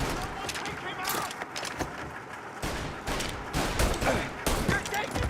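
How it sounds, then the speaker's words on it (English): Gunfire in the game Mafia Definitive Edition rattles in dense, repeated bursts of shots over several seconds, loud and close, with sharp cracks scattered through a busy firefight while voices talk underneath. "You're taking fire!"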